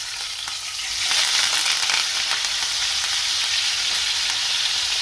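Chicken coated in chilli paste sizzles steadily in a hot pan on low heat as it is flipped, a dense, even frying hiss that swells slightly and then holds.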